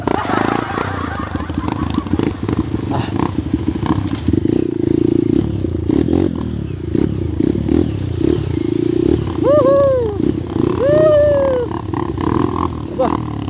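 A motorcycle engine rumbles steadily with clattering and scraping as it rides over a rough trail, while people talk and shout over it throughout.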